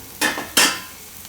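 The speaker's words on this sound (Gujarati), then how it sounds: "એક બાજુથી થોડુંક શેકાઈ જાય તેલમાં, પછી એને ફેરવી લેવું." A potato and pea paratha frying in oil on a pan gives two short bursts of sizzling as it is pressed and moved, then fades back to a low, steady hiss.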